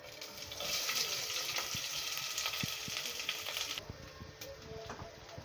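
Onions frying in a drizzle of oil in a preheated pan, a steady sizzling hiss with scattered pops and clicks that stays at a constant level throughout.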